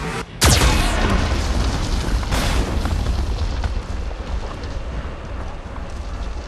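Geth cannon fire in the Mass Effect 2 video game: a heavy, close explosion erupts with a sharp crack, followed by a second blast and a long rumbling roar that slowly fades.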